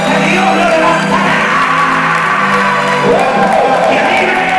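A church congregation at an evangelistic campaign service cheers and shouts loudly, a dense close crowd roar sustained throughout with voices rising over it.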